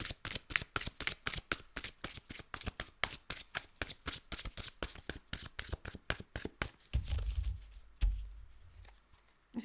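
Tarot cards are shuffled close up in a fast, steady riffle of crisp papery flicks running for several seconds, then giving way to softer handling sounds and a low thump near the end.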